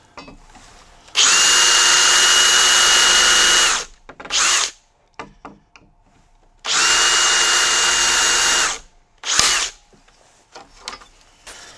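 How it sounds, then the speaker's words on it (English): Two bursts of a power drill boring pilot holes with a Bosch self-centering bit, each lasting about three seconds and followed by short rattles and clicks, loud and close with no talking. "there's our two pilot holes"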